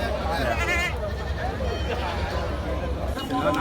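Several goats bleat amid a busy outdoor crowd at an Eid goat market in Kerala, wavering cries rising over people talking in the background.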